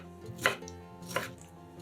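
Pineapple being cut into small cubes, two distinct knife strikes about a second apart over a steady background hum.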